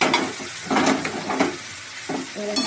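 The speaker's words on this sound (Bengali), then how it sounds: "এবার সব কিছু দিয়ে এবার কষিয়ে নেব খুব সুন্দর করে কষাবো" Boiled potatoes and spices are sautéed in a pan, repeated scraping stirs over a loud, close, continuous sizzle, with no one talking.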